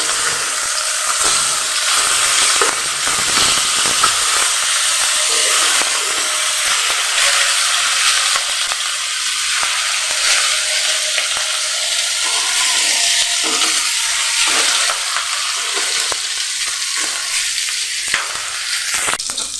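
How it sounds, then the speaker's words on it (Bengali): Hilsa fish fries in hot oil in a pan and is turned onto its other side, giving a loud, continuous, close hissing sizzle that lasts throughout, with faint utensil knocks and no voices. "অন্য পাশটা উল্টিয়ে দিচ্ছি যেন ঠিকঠাক মতো মাছটি যেন দোনো সাইডটি যেন পরিমাণ মতো ভাজা হয়"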